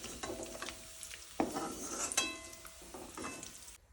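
Dried fish frying in oil in a home kitchen pan, with a crackling sizzle and sharp metal clinks and scrapes from a utensil stirring at intervals, close and moderately loud throughout.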